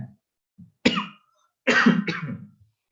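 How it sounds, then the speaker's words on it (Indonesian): Two or three short, harsh coughs in a quiet room, close to the listener, with brief silent gaps between them. "ini saya batuk"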